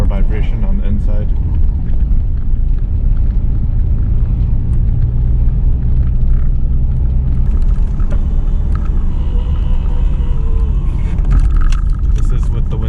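Subaru EJ205 engine idling on solid motor mounts, heard from inside the car with the window closed as a steady, loud low rumble and vibration, with someone talking over it.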